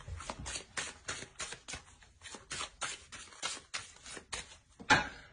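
Tarot cards are handled close up, with a quick string of soft papery flicks and riffling taps, like cards being shuffled and drawn, ending on a sharper snap.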